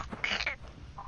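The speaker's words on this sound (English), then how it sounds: "Crow is annoying me." A crow caws in the video game Hello Neighbor 2, giving one harsh, raspy call that stands out clearly and briefly against a quiet game background.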